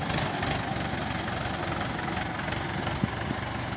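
Swaraj 735 FE tractor labouring to haul a trolley of sugarcane, about 15-20 quintals, its wheels failing to grip; a steady, dense low engine drone holds throughout with no talk.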